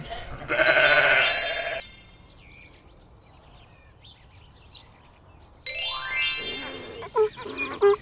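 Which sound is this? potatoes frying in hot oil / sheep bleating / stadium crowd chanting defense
sheep bleating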